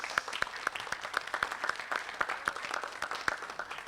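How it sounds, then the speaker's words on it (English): An audience at a school board meeting gives a round of applause, with steady scattered clapping from a modest crowd at moderate volume in a room. "can we give him a big round of applause tonight?"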